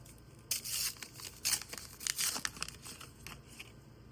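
A Star Wars: Unlimited Legends of the Force booster pack being torn open, giving bursts of crisp foil tearing and crinkling in several quick pulls, close and fairly quiet.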